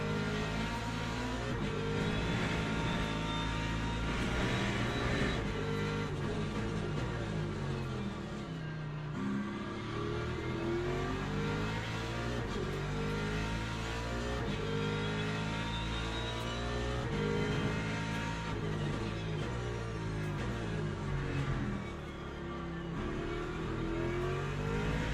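Hypercar engines in the Le Mans Ultimate racing game at the Bahrain 8 Hours, loud and continuous, with layered revving and gear-change pitch sweeps as several cars accelerate and pass, tyres squealing at moments.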